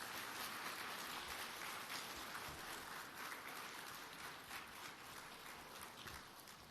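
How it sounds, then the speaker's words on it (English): Seminar audience gives a round of applause for the Prime Minister, heard as a steady, fairly faint wash of many hands clapping throughout, with no talk over it. "Give the Prime Minister another round of applause,"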